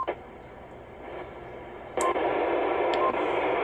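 Steady hiss of CB radio static in FM mode that swells louder halfway through, with a couple of faint clicks, continuous and unbroken.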